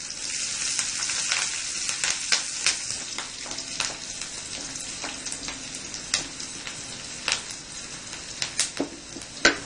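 Green chilies frying with potatoes in a pan give a steady close sizzle, punctuated by sharp spattering pops and scraping stirs throughout, without any talking.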